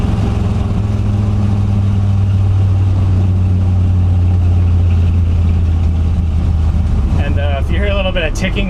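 A Ford F100 truck with a Tremec 5-speed idles loud and steady with a faint ticking exhaust leak from a missing collector gasket, and someone talks over it near the end.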